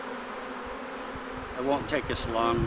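A honey bee swarm in Red Bluff, California, hums with a faint, steady buzzing in the background while someone talks briefly over it.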